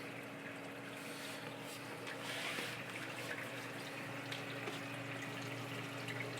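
Water rushes steadily through a reef aquarium sump, a constant close wash of flow and splashing with a faint pump hum underneath, unchanging throughout.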